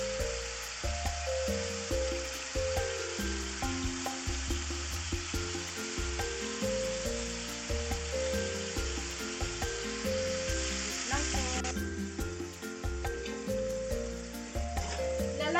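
Minced meat and mixed vegetables stir-frying in a pan, seasoned with salt and pepper: steady close sizzling with frequent scraping and tossing strokes of a utensil, continuous throughout.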